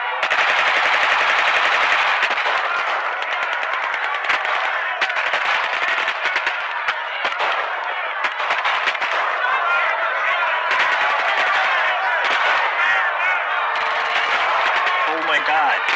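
Continuous, loud automatic gunfire sprays a zombie mob in an emergency broadcast scenario, dense rapid bursts overlapping without letup, with shouting voices mixed into the din.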